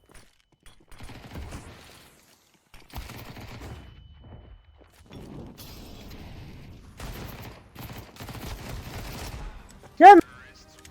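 Gunfire in Counter-Strike 2, several separate bursts of rapid shots spread across the clip, fairly quiet with gaps between, ending with a short sharp louder sound.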